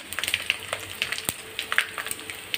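Dried red chillies frying in a pan of oil for mango pickle, a close, steady crackling sizzle with small pops, no talk.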